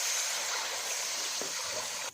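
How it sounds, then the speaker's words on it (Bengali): Water is poured into a cooking pan for semolina halwa, giving a steady, faint rushing pour that lasts about two seconds and then stops abruptly. "পানি দিচ্ছে"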